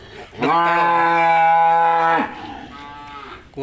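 A pregnant dairy cow lets out one long, loud moo close by, followed by a shorter, quieter second call.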